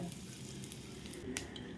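Asafoetida dropped into hot oil tempering with mustard seeds and cumin, giving a soft steady sizzle with a couple of faint crackles over a quiet background, recorded close.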